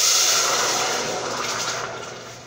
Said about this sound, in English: I have like a half a cup of water.